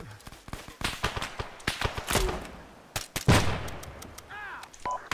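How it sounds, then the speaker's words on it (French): Gunfire from the military shooter Arma 3 cracks in repeated sharp shots and short bursts, some near and loud, others more distant, with brief radio beeps and faint voices in between. "Attention, tir allié dans le labyrinthe, ne tirez pas vers le bunker"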